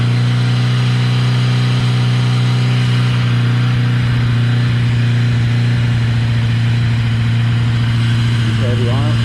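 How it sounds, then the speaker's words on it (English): A Yamaha XJ650 motorcycle idles in neutral on fuel enrichment, its steady, loud, close engine drone holding a firm low rumble as the revs slowly creep upward. "Okay, the RPMs are climbing."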